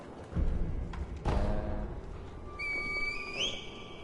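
A reed whistle blown in a Sekiro-style action video game rises as a thin, sustained high tone after a couple of dull thuds, its pitch bending upward near the end over a busy game soundscape.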